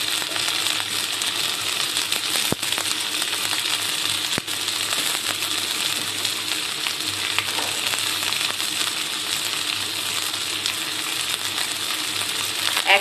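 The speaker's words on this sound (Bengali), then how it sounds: "পেঁয়াজের সাথে টমেটোগুলো একটু ভেজে নেব" Tomatoes frying with onion in a pan, a steady, bright sizzle running throughout with a couple of sharp clicks of utensils against the pan, no talking.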